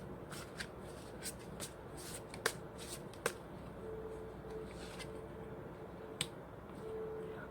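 Tarot cards shuffled and drawn close up, giving soft, quiet riffling and sliding with a few sharp, crisp snaps as cards are flicked or laid down.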